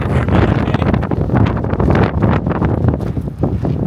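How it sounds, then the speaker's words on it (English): Heavy wind buffets the microphone outdoors on a windy day beside a 2026 Forest River Cherokee Wolf Pup 16LP travel trailer, a continuous loud rumbling roar with gusty fluctuations and no speech. "I apologize for the wind, it's a windy day."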